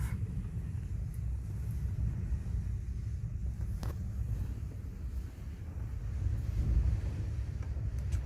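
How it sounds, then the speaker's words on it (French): Strong storm wind buffets a parked van at night, a constant low rumbling roar with gusts battering the microphone, and no one speaking. "Je sais pas si vous entendez le vent."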